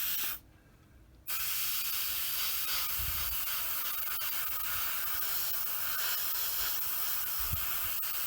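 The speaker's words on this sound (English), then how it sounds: "Another thing I like about this airbrush is I can get in really, really tight, and the chance of overspray is minimal." An airbrush sprays paint onto a 1/35 scale Tamiya Sdkfz 250/3 Greif model tank, a loud, close, continuous airy hiss that cuts out briefly near the start and then runs on unbroken.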